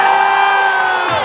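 A crowd cheers and whoops loudly, a dense continuous roar of voices that carries on without break for the whole moment.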